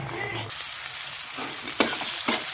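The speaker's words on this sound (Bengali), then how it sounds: "এটার মধ্যে ভাজা দিয়ে দিলাম, আর পেঁয়াজও দিয়ে দিয়েছি। সেটা ভাজা হবে।" Small shrimp and onion sizzling in hot oil in a pan while cooking shrimp with ash gourd: a loud, steady hiss with a couple of sharper bursts as the pan is stirred.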